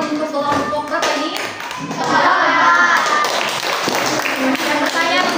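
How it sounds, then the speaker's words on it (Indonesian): Primary-school classroom applause for a student group, a burst of scattered hand clapping from many children with some voices and taps mixed in, moderately loud and sustained. "Tepuk tangan untuk kelompok berapa ini?"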